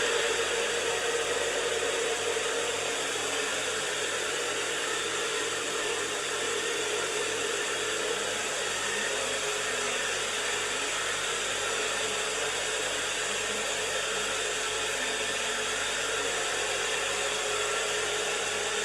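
A hair dryer blows steadily on someone's hair, a continuous loud broadband whoosh with a low motor hum that stays even for the whole stretch, with no voices over it.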